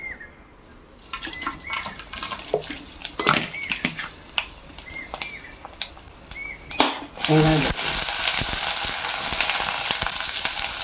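Tempering spices hit hot oil with a sudden loud sizzle that settles into a steady hiss, after a stretch of utensil clatter and a voice in the kitchen.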